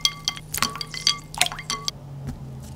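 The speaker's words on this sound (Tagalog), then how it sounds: "Tapos, nilagay ko agad sa tubig na may yelo." Hotdogs dropped into a bowl of ice water make sharp clinks and light splashes, a quick cluster of close, bright knocks and drips that fades toward the end.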